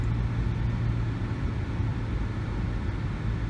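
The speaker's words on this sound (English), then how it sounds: "The engine seems to be running smoother right now" Nissan Murano engine idling high at just over 1,000 RPM, with a lean fuel-trim fault under diagnosis: a steady, close, low rumble with a constant hum and no talking.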